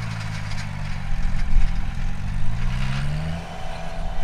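A John Deere 1025R sub-compact tractor tilling a wet three-acre yard, its mid-pitched engine droning steadily nearby with a slowly rising tone under a layer of mechanical rattle, with no talking.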